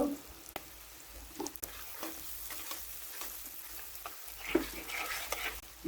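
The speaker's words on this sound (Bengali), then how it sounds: "পেঁয়াজ ভাজা হয়ে গেছে।" Onions frying in oil with garam masala, a soft, steady sizzle broken by intermittent stirring scrapes and taps, fairly quiet and close, with no talk.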